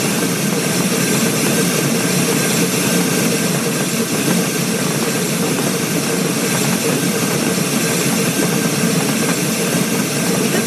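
In a train video game, a train rolls across a trestle with a loud, continuous rumble and roar, dense and unbroken throughout, with no voices over it.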